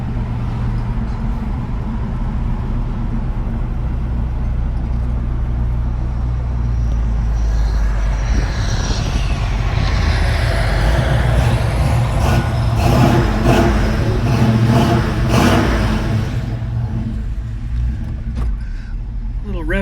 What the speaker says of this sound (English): Just a little bit of exhaust rumble.